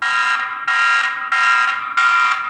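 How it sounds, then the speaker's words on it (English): A loud electronic alarm siren from a Tapo C320WS outdoor security camera blares in four repeated bursts, each a harsh buzzing tone lasting about half a second, with short gaps between. "There's an alarm, so you can set the alarm."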